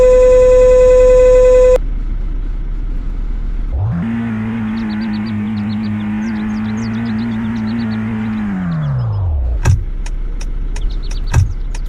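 A Lada car in the Greenville driving game: after a short electronic beep, the engine starts with a low hum, holds an even drone for a few seconds, then winds down and stops, followed by two sharp clicks.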